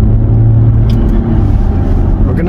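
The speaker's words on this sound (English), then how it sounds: "we're gonna let the car get up to speed" A car accelerates toward cruising speed of about 110, giving a loud, steady low engine and road rumble heard from inside the cabin, with no talking.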